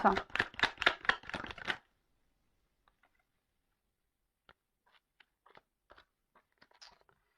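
Tarot cards being shuffled and drawn for a nine-card spread, a quick dense burst of riffling for under two seconds, then sparse faint clicks and soft card taps in near silence.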